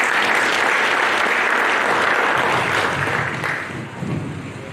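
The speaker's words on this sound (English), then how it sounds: "Let's applaud him further." An audience at a World Town Planning Day event in Kisumu County, Kenya, applauds a speaker with dense sustained clapping that stays full for several seconds and then gradually thins and fades.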